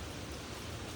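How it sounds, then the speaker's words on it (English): Rain falls outdoors as a dense, even hiss that fills the whole moment, steady and moderately quiet, with no voices over it. "We just got caught in the rain."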